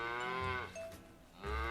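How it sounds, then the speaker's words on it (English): A cow moos twice, a drawn-out harmonic bellow followed by a shorter rising call after a brief pause, close and fairly clear. "The cow started jumping and making sounds."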